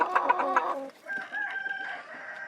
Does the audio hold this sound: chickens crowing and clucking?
yes